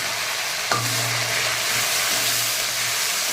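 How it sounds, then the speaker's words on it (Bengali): Onion, tomato and ginger fry in a pan with a steady close hiss, a low hum running underneath and a brief knock near the start. "এবার আস্তে আস্তে এটাকে ভাজা হোক"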